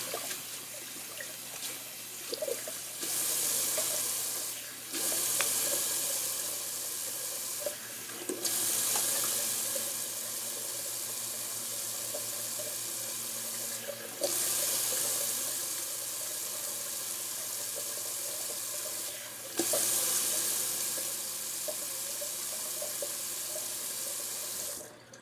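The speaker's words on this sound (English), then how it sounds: "I'm just gonna do a quick little cold water rinse." Water runs steadily from a faucet into a sink, a constant hiss and splash with a few brief pauses and small clinks, close by.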